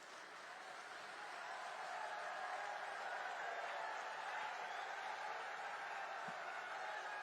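A large crowd at an outdoor political rally in Sirsa applauds while standing to welcome the Home Minister, a faint, distant, continuous wash of clapping that swells slightly and then holds steady.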